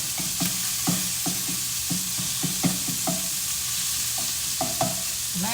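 Sausage pieces frying in a pan for a breakfast lasagna, a steady sizzle running throughout with repeated scraping stirs of a utensil against the pan at an uneven rhythm, close and fairly loud, no voices.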